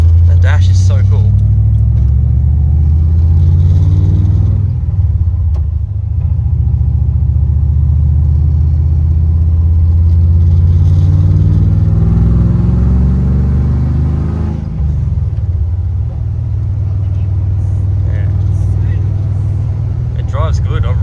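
A Holden VL car out on a test drive, a loud low engine rumble with rising and falling revs through gear changes, heard from inside the cabin.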